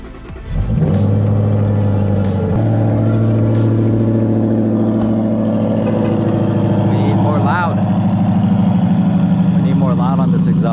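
Ford Mustang 5.0 V8 running through its exhaust, a deep, loud, steady drone that starts abruptly and holds, with brief voices talking near the end.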